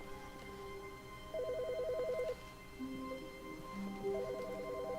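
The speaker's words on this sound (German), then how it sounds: "Wo läutet das Telefon?" A telephone rings in the video game The Stanley Parable, giving off repeated bursts of electronic trilling over a steady hum of background music, with pauses between rings.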